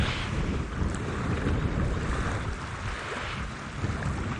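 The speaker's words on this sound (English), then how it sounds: "You can hear the water slushing up against the edge of the banks." River water sloshing against the banks during a sunset safari drive, a continuous close wash of water with heavy wind buffeting the microphone, steady and moderately loud with no voices.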